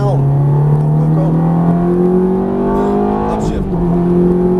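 A Ferrari F430 accelerates at full throttle on a race track, its engine note climbing steadily through a gear before a brief dip at the shift and another rise. It is loud and close, with an instructor's voice talking over it.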